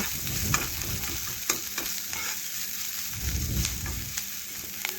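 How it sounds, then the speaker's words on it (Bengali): Onions sizzle steadily in a hot pan while a spoon stirs and scrapes through them, with occasional clinks against the pan. "পেঁয়াজটা এখন নাড়াচাড়া করে একটু ভেজে নিচ্ছি দেখুন বন্ধুরা পেঁয়াজটা লাল লাল করে আমি ভেজে নেব"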